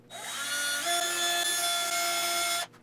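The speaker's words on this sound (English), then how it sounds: "At this point, I could drill them out," A power drill bores hinge mounting holes in wood for a TV stand, a single steady whining run of about two and a half seconds with a slight pitch rise before stopping abruptly.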